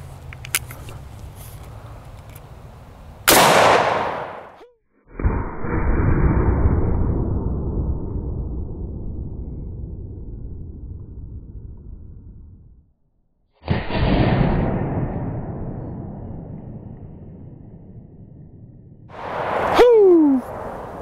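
Shots from a Marlin 336W lever-action rifle in 30-30 Winchester, fired with 160-grain FTX rounds into a wall test target: three loud, sharp cracks spaced several seconds apart, each trailing off in a long outdoor decay.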